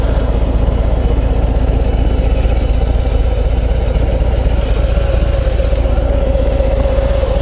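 A loud Harley-Davidson FXDR 114 motorcycle engine idles steadily in neutral at close range, a continuous low rumbling throb with no talking.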